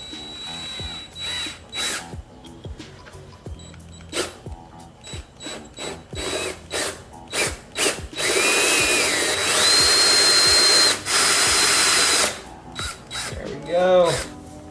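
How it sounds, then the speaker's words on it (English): A power drill with a hole saw grinds loudly through a plastic motorcycle fairing in a long sustained burst, preceded by short drill bursts and clicks, close up. "stick on the hole saw, center it on, cross my fingers and drill."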